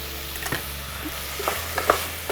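Garlic sautéing in a pan for a chouriço and peppers sandwich, a soft steady sizzle with a few light clicks of stirring, close and quiet with no talk.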